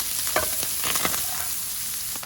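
Spoon stirring a dry five-spice mixture in two frying pans, steady scraping and light sizzle with a few sharper clinks of utensil against pan, close and continuous.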